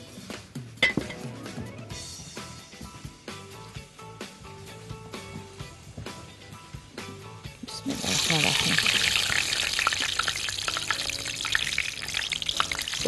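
Kobeiba are lowered one by one into hot oil; quiet kitchen clinks and handling come first, then a loud, dense frying hiss swells and continues steadily to the end.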